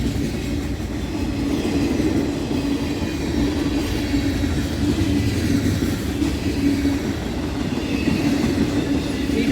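Freight cars of a Norfolk Southern train, carrying denatured alcohol, tractor equipment and autos, roll continuously past nearby with a constant loud rumble, clacking wheels and faint metallic squeals throughout.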